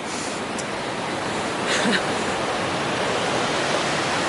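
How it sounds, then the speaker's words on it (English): A fast-flowing river swollen with snowmelt rushes under a bridge along the Pacific Crest Trail, giving a loud, constant broadband roar of water close by, with no talk. "this river is flowing so fast, all the snow melts"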